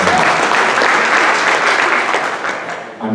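Dense, loud applause from an audience at a benefit event fills the space continuously, fading slightly toward the end with voices mixed in.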